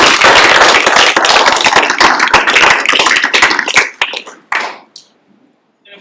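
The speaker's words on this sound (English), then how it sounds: "let's have a round of applause for Leifska" A small audience at a youth apprenticeship signing day ceremony gives a round of applause, close and sharp, thinning out into a few scattered final claps before falling silent.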